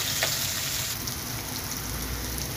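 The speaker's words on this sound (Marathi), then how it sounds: "टॅमॅटो पण छान मऊ येईपर्यंत परतून घ्यावा" Tomatoes sautéing with browned onion in a pan for a sprout curry, giving a steady, close frying sizzle throughout with a soft hiss, no voices.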